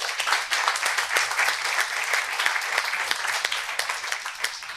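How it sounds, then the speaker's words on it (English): Audience applause at a university master's open day Q&A session, a dense, steady patter of many hands clapping together, fairly loud and continuous throughout. "Can we also give them a round of applause?"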